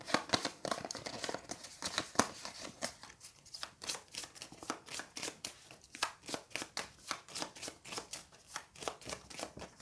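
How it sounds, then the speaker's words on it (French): Decks of Pax Pamir board game cards are shuffled by hand, giving a quiet, close, rapid run of crisp riffling and snapping bursts in an irregular rhythm, with no voices. "Et donc en fait on va ensuite mélanger nos paquets indépendamment."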